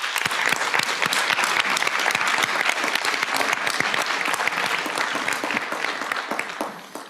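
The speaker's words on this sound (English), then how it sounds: "help me give them a round of applause." An audience at a board of directors meeting applauds, dense continuous clapping that holds strong for several seconds before tapering off toward the end.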